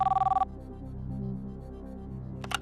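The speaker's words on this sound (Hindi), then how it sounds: "कंप्यूटर जी, इनको फोन लगाया जाए।" Telephone call ringing out on the Kaunsi Banega Crorepati (KBC) game show, a short burst of rapid electronic ring pulses, then a quiet hum and a brief click at the end.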